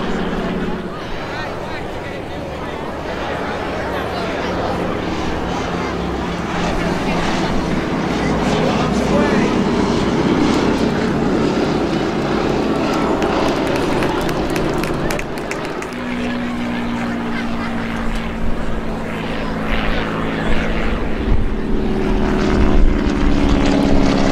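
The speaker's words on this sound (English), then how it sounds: "High overhead, flying high cover for the B-17." WWII propeller warbirds, a P-47 Thunderbolt and an SB2C Helldiver, fly overhead at the 2012 Jones Beach Airshow. Their engine drone is steady and swells gradually, and voices talk over it.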